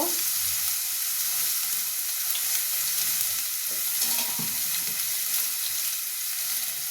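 Pointed gourd (potol) frying in hot oil gives a steady, loud, continuous sizzle, with occasional soft stirring scrapes and no voices.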